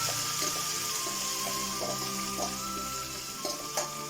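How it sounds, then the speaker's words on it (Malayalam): Dried chillies and curry leaves frying in hot oil for Onam puli inji: a continuous close hiss and sizzle with faint crackles and occasional soft clinks. "ഇതിലേക്ക് നമുക്ക് കറിവേപ്പിലിട്ട് മൂപ്പിക്കാം."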